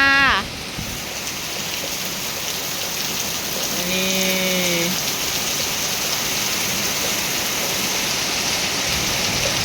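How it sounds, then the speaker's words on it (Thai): Heavy rain pours down with wind, a dense, loud and continuous hiss of water that lasts throughout, with a brief tonal sound rising over it midway. "ตกเหมือนฟ้ารั่วไปเลยนะพี่น้องเอ้ย มันมีลมมันมีอย่างเลยจ้ะ"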